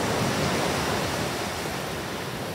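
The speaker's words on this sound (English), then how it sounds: "These waves are really piling up and crashing onto the shoreline" Ocean waves pile up and crash onto a beach shoreline during sea glass hunting, a loud, continuous broadband roar of surf breaking close by with no pause.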